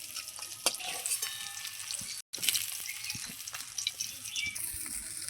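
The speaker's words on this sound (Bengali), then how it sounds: "মাছগুলো আমি উল্টে পাল্টে দুই পাশ লালচে করে ভেজে নেব।" Pieces of pangas fish frying in hot oil in a pan, a steady close sizzle with occasional stirring and turning clicks, with one brief cut and no talk.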